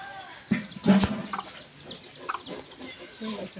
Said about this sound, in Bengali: মুরগি বাচ্চাগুলি নিয়ে কীভাবে